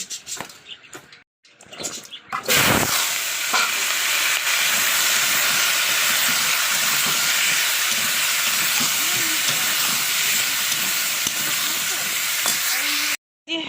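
A pot of watery fish curry boils hard on the stove, giving a steady, loud bubbling hiss that runs unbroken for about ten seconds after a few brief clatters, then stops abruptly near the end.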